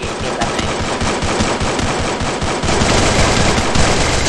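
Rapid bursts of MP40 submachine gun fire ring out in the video game Free Fire, loud and close, a fast continuous rattle that grows denser in the second half.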